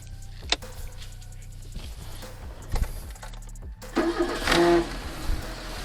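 A SEAT Ibiza MK1 with its Porsche-system engine cranks with a sharp click and clatter, catches, and settles into a steady rhythmic idle, heard close up with no voices.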